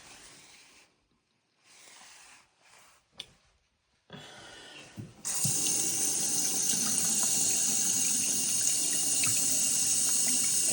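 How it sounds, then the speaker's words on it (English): Water sprays steadily from a tap in a tiled bathroom, starting abruptly after a few quiet seconds with light handling noises and continuing as a loud, even hiss. "It hits like that thing and sprays a little, but not the best water pressure right there"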